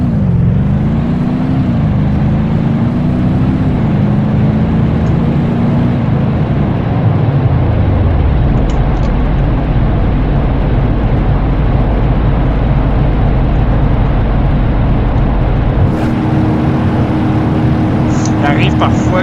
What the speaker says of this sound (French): V8 4-wheel drive off-road.